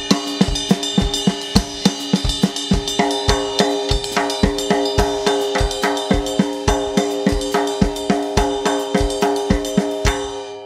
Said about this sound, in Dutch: En dan kan ik mijn linkerhand daar weer in zessen doorheen laten gaan.